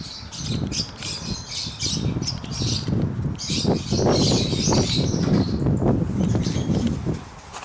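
A home aviary of breeding lovebirds, including black-cheeked and Fischer's types, squawks and chirps nonstop in a dense, close chorus, with occasional wing flutters throughout.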